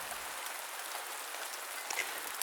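Steady rain patters on a camping tent on a rainy night, a dense even hiss of drops with a few sharper nearby hits and no voices.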